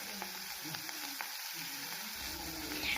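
Chopped onion hitting hot oil already fragrant with fenugreek seeds, giving a quiet, steady frying hiss with a few soft clicks of a spoon against the pan, no talking.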